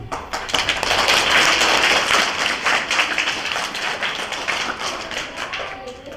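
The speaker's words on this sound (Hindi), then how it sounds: "ताली बजा बेटा।" Applause at a school career fair as a girl is honoured with a shield for her spinning-wheel model, a dense, steady crowd clapping sustained throughout at close range.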